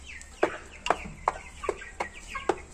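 Brahma chickens give a run of sharp, evenly spaced clucks, about six distinct calls close by and fairly quiet, with no voices.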